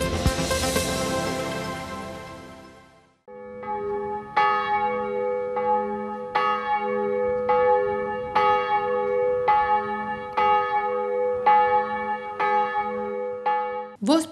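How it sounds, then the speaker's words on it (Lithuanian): The bell in the belfry of St. George's church strikes repeatedly at a slow, even pace, each ringing stroke sustaining and overlapping the next, loud and resonant after a brief opening of other sound. "Švento Jurgio bažnyčios varpinėje suskambo varpas"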